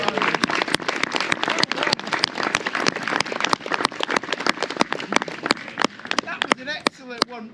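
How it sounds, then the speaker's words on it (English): An audience at an outdoor gathering at Dunrobin Castle applauds after a short run, with sharp, rapid claps over a noisy crowd and voices talking. "Give him a big round of applause, everyone."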